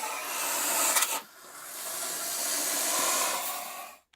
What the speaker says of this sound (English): I was actually really satisfied when I found out that goose can hiss.